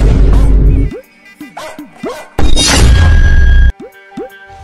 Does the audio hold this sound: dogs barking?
yes